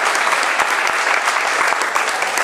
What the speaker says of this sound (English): So let's give them applause.